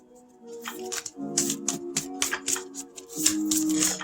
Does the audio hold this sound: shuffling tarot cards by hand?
yes